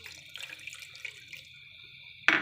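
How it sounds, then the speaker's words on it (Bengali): A little water is poured into a pan of milk, salt and ground coconut for making pitha, a faint trickle and splash running quietly before a sharper, louder pour bursts in at the end. "আর অল্প কিছু পানি দিচ্ছি,"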